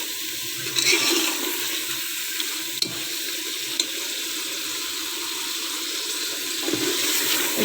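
Water is poured into a pot of mutton curry in a steady, continuous splashing stream, close and fairly loud, with no voices.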